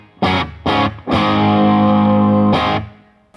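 Electric guitar through a Bad Cat Cub 40R tube amp on its EF86 preamp channel: two short picked stabs, then a long sustained chord ringing richly before a final hit, mildly driven and full.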